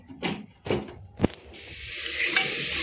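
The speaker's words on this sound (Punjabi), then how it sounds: "ਆਪਣਾ ਤੜਕਾ ਜਿਹੜਾ ਆ ਉਹ ਭੱਜ ਰਿਹਾ ਆ" Cumin and other tempering spices sizzling in hot oil in a pressure cooker, a few sharp stirring scrapes followed by a rising, steady hiss of frying.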